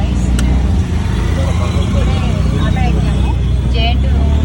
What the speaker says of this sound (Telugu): సో ఫుల్ ట్రాఫిక్ ఉంది